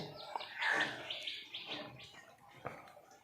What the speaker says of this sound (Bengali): কাকটা উপর থেকে শুধু ডেকেই চলেছে